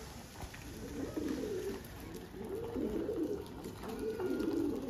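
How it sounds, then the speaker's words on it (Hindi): Pigeons coo on a rooftop loft in repeated soft, rolling bursts, three or four phrases in a row, fairly quiet and close, with faint background noise. "सो ये मेरे कबूतर हैं"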